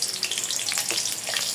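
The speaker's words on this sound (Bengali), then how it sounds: "একটু হালকা ভেজে নেব।" Chopped onions and bay leaf frying in hot oil in a wok, giving a steady, close sizzle with faint crackles throughout, alone without talk.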